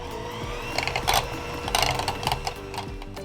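An electric mixer beats butter for eggless pistachio biscuits, making a steady mechanical whir with rhythmic rattling clatter and brief louder bursts as the beaters knock the bowl, close and fairly loud.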